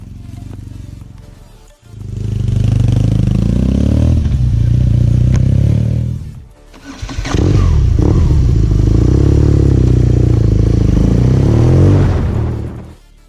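A BMW R nineT motorcycle engine running close by in two long revving bursts separated by short pauses, a deep, loud, throaty roar that rises and falls in pitch.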